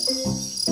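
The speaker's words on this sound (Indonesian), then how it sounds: "Suara jangkrik ini semakin keras dengan naiknya suhu sekitar." Cricket chirping: two short, bright trilled chirps, close and clear, separated by a brief pause over quiet background.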